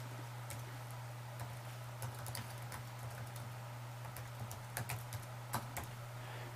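Soft, quick keystrokes tap on a computer keyboard as a username and password are typed into a Training Peaks login page, faint and irregular over a steady low hum, with no talking.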